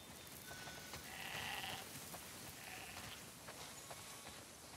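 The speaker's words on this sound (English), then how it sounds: "Wow, that's a lot of sheep." Several sheep bleat in the video game The Last of Us Part II over a steady background hum, calls overlapping at moderate distance with a slightly synthetic, game-like quality, near a barn.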